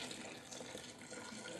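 Wort drains from a squeezed grain bag during countertop all-grain homebrewing, a steady broadband trickle and splash of liquid running continuously without pause.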